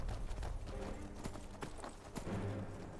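Horse hooves gallop in Skyrim, a soft, rapid, continuous clip-clop that stays faint and steady beneath low ambient rumble.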